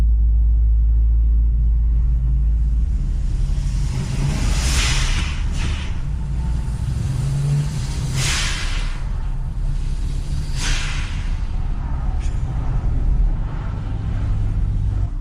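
A vintage turbocharged car drives along, with a loud steady engine and road rumble and occasional whooshes of passing air and traffic.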